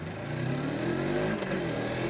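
A Suzuki GW 250 Inazuma motorcycle engine hums and revs at close range just before a test ride, a steady mid-pitched drone that rises slightly in pitch without any talk.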